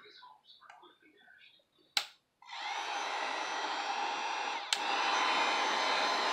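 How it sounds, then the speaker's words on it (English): A heat gun switches on with a click and blows a steady, loud whooshing stream of air over wet paint on a painting, running continuously after a short stretch of quiet handling noise. A second click partway through leaves the airflow running. "And I will take my heat gun."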